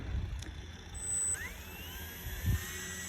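A small aircraft takes off with a left turn, its engine a close, steady roar inside the cabin, with a brief high whistle and a faint rising whine partway through.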